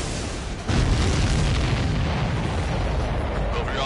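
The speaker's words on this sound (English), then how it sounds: "The missile hit the supply ship dead on." A missile striking a supply ship in the video game Ace Combat 7, a sudden heavy boom followed by a sustained rumbling roar of the blast and jet noise.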